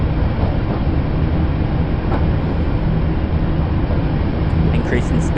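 An Isle of Wight Island Line train of former London Underground stock runs along the track, a loud, continuous rumble and rattle heard from on board, with a voice speaking over it.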